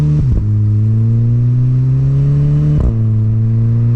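A Volkswagen MK6 GTI fitted with an aftermarket catback exhaust idles with a deep, loud drone. It revs at half throttle in two short blips, one near the start and one near the end.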